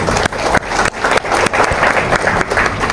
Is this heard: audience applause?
yes